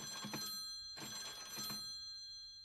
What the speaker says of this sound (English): Hello? The phone works.